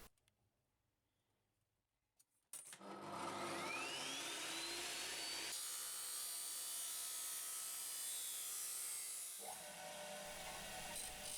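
A Honda NC750X front fork tube being cut at the end with a high-pitched whining power tool, which spins up after a quiet start, cuts steadily and loudly up close, then winds down.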